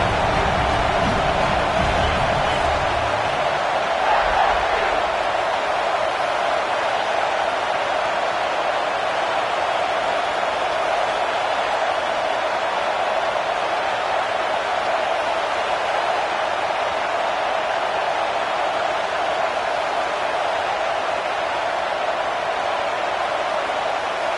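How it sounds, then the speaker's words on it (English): A loud, steady stadium roar from a football crowd as the Volunteers face a fourth down, a dense sustained wall of noise with no break across the whole stretch. "with this place rocking, the crowd forces a false start"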